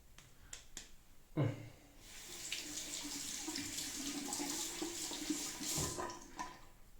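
Tap water runs steadily into a shaving bowl to thin Proraso red shaving soap lather, a close, continuous splashing stream starting after a sharp knock and ending in a few clicks.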